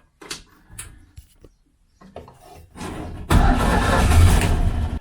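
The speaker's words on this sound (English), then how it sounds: "Oh, ignition on." A 1956 Citroën Azu's engine cranks through a few short, halting attempts, then catches and settles into a loud, steady running sound up close.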